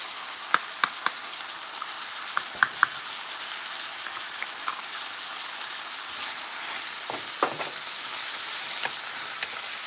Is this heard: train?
no